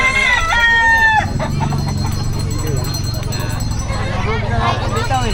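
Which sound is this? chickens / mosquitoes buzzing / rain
chickens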